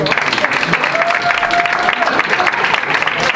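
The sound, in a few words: applause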